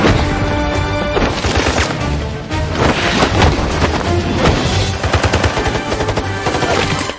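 Rapid bursts of automatic gunfire mixed with single shots and impacts, loud and dense, a cinematic firefight with mercenaries in the film Snow Monster 2 (2018), with no talking.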